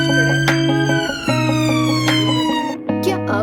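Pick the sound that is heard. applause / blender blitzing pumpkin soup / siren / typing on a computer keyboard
siren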